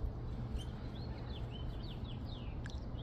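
Spring birds in Canada chirp in several short, thin, rising calls scattered across a few seconds, moderately distant over a constant low outdoor rumble of wind or traffic.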